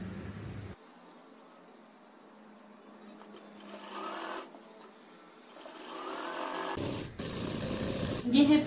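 A sewing machine stitches the side piece of a lehenga, a steady whirring hum that runs for several seconds before stopping, close up, with someone talking around it.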